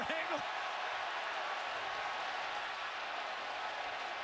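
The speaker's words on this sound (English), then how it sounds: "They're showing it on the Jumbotron, and the crowd is reacting." A college football stadium crowd during LSU at Wisconsin in 2016, reacting to a replay on the big screen with a steady, broad roar that stays even throughout, with a brief voice at the very start.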